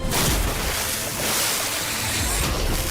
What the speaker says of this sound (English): and some huge splashes.